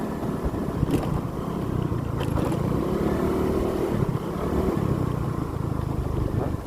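A steady motorcycle engine drone with wind rushing past while riding through Cadiz, Umingan, rumbling continuously with a few faint knocks.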